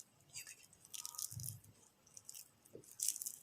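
Crispy potato fries broken apart by hand give a few soft, close crunches and crackles spaced across a quiet background.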